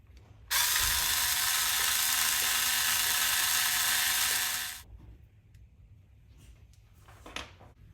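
A tool spins screws out of an Arrma Fireteam RC basher chassis, giving one steady mechanical whirring burst of about four seconds, followed by faint handling clicks and rustles.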